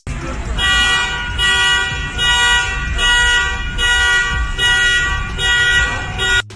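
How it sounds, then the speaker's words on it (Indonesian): A parked car's alarm blares in loud repeating pulses of a harsh electronic tone, about one per second, close by and continuous, with voices faintly underneath. "terdengar suara alarm dari mobil tersebut"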